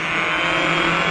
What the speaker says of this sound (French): Une série de donuts avant d'être rappelé à l'ordre par son copilote.